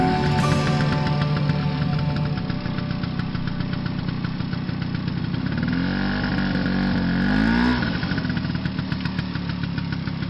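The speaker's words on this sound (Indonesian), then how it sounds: "Mereka umumnya mengendarai Vespa butut" An old, battered Vespa scooter engine runs steadily with a rough, buzzing two-stroke drone, loud and continuous, its pitch rising briefly as if revved before settling back, with no voices.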